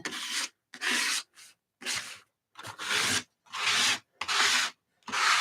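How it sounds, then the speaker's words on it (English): Paint is scraped down a surface in a series of about eight evenly spaced, loud rasping strokes, each roughly half a second long with short silences between them, close up and with no voices. "I'm doing what she did, just scraping paint down"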